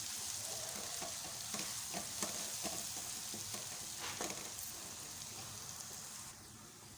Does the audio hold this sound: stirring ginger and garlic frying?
yes